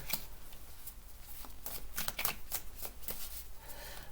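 Tarot cards shuffled by hand in quick, soft riffling bursts, a dense papery flutter at fairly low level with no voices over it.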